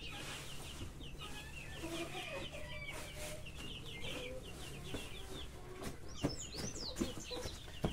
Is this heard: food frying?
no